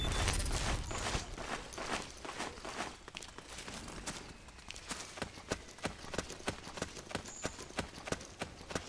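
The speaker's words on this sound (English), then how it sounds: "Footsteps." Footsteps in the Metal Gear Solid 4 video game sound as rapid sharp clacks, like hard steps on a solid floor, that speed into a dense rhythm. They run over a noisy game soundtrack for several seconds.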